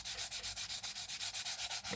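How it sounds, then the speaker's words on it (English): Rapid, even back-and-forth strokes of sanding across panel lines on a plastic scale model kit, a dry rhythmic rasp heard up close with no talking. "using this sanding technique for reducing panel lines and yet still having them all visible"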